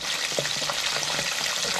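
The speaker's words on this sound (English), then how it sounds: "Alright, lower it in the oil." Homemade potato wedges frying in hot oil in a Presto Fry Daddy deep fryer, giving a loud, steady, close-up sizzle with continuous crackling bubbles and no gaps.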